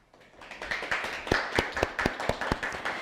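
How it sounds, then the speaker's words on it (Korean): Audience at a science book talk claps to welcome a graphic-novel science author, with sharp, slightly uneven handclaps coming steadily for about three seconds. The claps are fairly close and sparse, more a small group than a full crowd. "큰 박수로 조진호 작가님을 모셔볼까요?"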